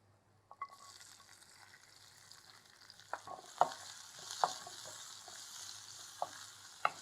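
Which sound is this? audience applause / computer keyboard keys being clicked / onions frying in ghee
onions frying in ghee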